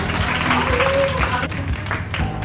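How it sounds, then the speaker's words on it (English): Audience applause at a zero-waste, package-free community event, a dense wash of clapping filling the moment, with some voices mixed into the crowd noise. "Please give them a round of applause."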